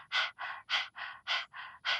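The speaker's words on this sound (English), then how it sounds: "This is a rapid pace of breathing in and out of the nose." Breath of fire, rapid forceful in-and-out breathing through the nose, heard close as seven even, rhythmic puffs in about two seconds with no talking.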